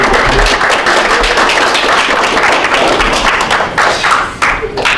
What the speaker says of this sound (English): I kind of want to give you a round of applause on mine